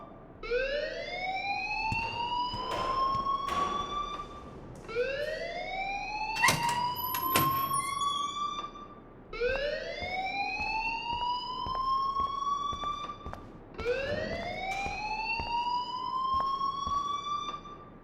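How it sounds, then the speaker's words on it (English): An alarm rings in the video game Life is Strange, a loud rising wail that repeats in steady cycles about every four seconds, with clanking noises between the cycles and no speech over it. "please turn off that alarm since that's your job"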